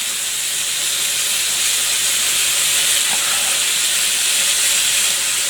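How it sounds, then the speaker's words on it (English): Steady, loud sizzling hiss of a Korean-style cheeseburger frying in a hot pan, continuous and even with no voices. "Start frying up quite nicely."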